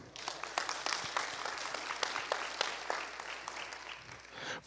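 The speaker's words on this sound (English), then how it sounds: "Everybody give yourselves a round of applause." Audience applause at a Monroe County Schools event, a dense crowd of steady clapping filling the space, fairly close and sustained without talk over it.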